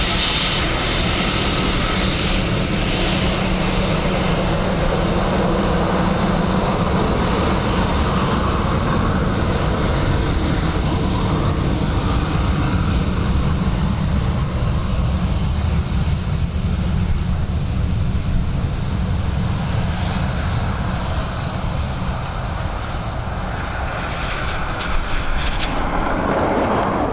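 A fixed-wing airplane lands at Dublin Airport on runway 28 left on a wet day with gusty wind, its engines roaring loudly and steadily throughout, with faint radio talk mixed in.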